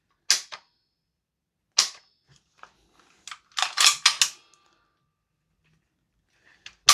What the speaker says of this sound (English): we spin this barrel nut off, and the barrel system should slide out from the front, but it's incredibly tight